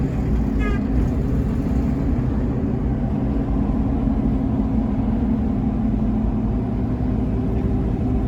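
Lifted Ford Explorer with a V8, manual transmission and 35-inch mud-terrain tires driving on the road: a loud, continuous engine drone and road rumble from inside the cab, steady throughout with no clear break for a shift.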